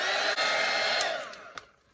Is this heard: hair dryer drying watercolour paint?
yes